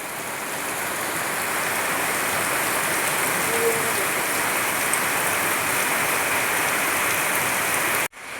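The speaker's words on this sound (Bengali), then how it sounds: "দেখো কত বৃষ্টি পড়ছে, পুরো ঝমঝম ঝমঝম করে বৃষ্টি পড়ছে" Heavy rain pours down steadily in a dense, loud, unbroken roar that holds evenly for several seconds before cutting off abruptly near the end.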